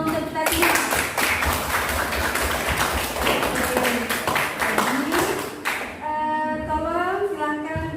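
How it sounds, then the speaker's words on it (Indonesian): Classroom of students clapping together as a group, a dense burst of hand claps lasting about five seconds, followed by children's voices talking. "Tepuk tangan dulu untuk kita lihat"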